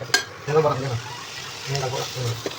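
Chayote is stirred and fried with chili powder in a pan: a soft sizzle carries brief spatula scrapes and clinks in two short bursts.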